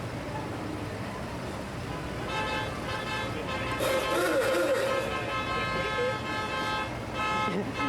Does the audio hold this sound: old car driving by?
yes